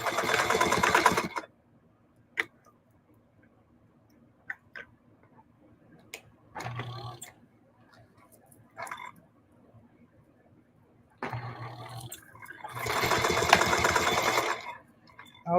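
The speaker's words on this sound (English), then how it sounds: "I'm just keeping sewing. No need to break the thread to get to this side." A sewing machine stitches a bag made from upcycled jeans in short separate bursts, close and fairly loud, with quiet ticking gaps between them and no talk.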